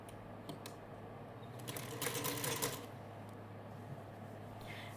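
A sewing machine stitches along the bias edge of a Dresden quilt block: quiet, close mechanical whirring with a few short bursts of rapid ticking, one louder stretch in the middle, then fading back to a low hum.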